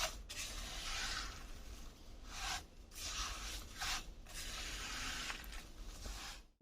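Coarsely ground makhana is stirred into a panjiri mixture in a pan, giving soft, continuous scraping and rubbing strokes that rise and dip in uneven bursts, quiet and close, with no talking.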